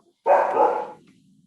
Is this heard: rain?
no